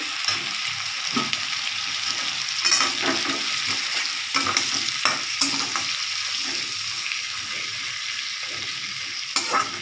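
Tomatoes and green chillies fry in a pan for a tangra fish curry, a dense close sizzle with scattered spoon scrapes as they are stirred.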